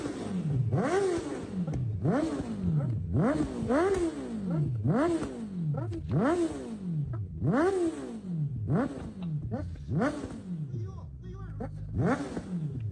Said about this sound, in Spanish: mirá cómo suena esta belleza. El escape original